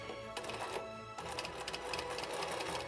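A sewing machine back stitches a Christmas stocking, making a steady, close mechanical whirr with rapid needle ticking and a brief pause partway through.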